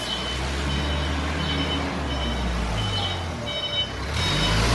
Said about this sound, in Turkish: Evet bir kamyonumuz daha geldi.